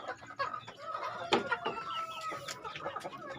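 Young roosters crowing and hens clucking together in a poultry breeding pen, several overlapping calls at close to mid distance, with a brief louder crow near the middle and steady clucking throughout.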